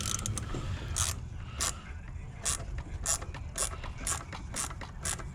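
A ratchet tightens the bolts on a BMW B58 high-pressure fuel pump during a Dorch Stage 2 install, with a series of close, crisp clicking strokes repeating at a steady pace.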